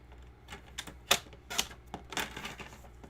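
Linen cardstock being cut to size at a craft table, giving a series of short, crisp slicing and clicking bursts spaced unevenly over a few seconds, fairly quiet and close, with no talking.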